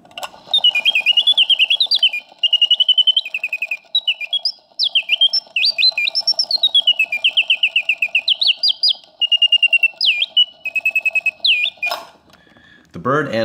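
A Karl Griesbaum mechanical singing bird box trills and warbles in bright, rapidly oscillating whistled phrases, nearly continuous and loud, ending with a click and brief whir.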